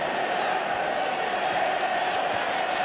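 A stadium crowd at the 1975 England v West Germany football match keeps up a steady, dense roar of cheering and murmur, loud and continuous throughout without distinct peaks.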